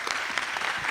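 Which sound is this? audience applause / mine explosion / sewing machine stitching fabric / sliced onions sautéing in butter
audience applause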